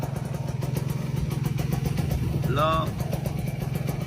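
A 2014 Kawasaki RR 150 motorcycle with a DBS Thailand exhaust idles nearby in a steady, even putter, while someone talks briefly over it.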